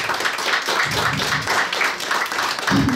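Audience applause at a literary café event honouring a writer, loud and steady across the whole stretch, with broadband clapping filling the room and a few low thumps or voices surfacing beneath.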